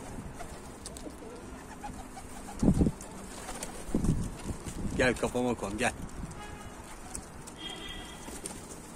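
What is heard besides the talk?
pigeons cooing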